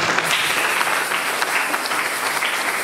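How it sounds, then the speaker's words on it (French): An audience at a women's gathering bursts into sustained applause, a dense, even wash of clapping from many hands with no talk over it. "Est-ce qu'on peut acclamer?"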